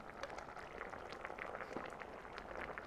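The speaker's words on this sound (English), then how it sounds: "I'm gonna put a couple ladles in here," Rich crab soup ladled into a bowl, with soft liquid splashing and bubbling, close and continuous with faint pouring dribbles throughout.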